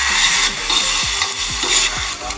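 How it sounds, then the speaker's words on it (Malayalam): Prawns sautéing in a frying pan for a konju fry roast: a steady, close sizzle of hot oil with repeated scraping strokes of a spoon stirring the pan, no talk. "നല്ലോണം വഴറ്റി കൊടുക്കാം കേട്ടോ."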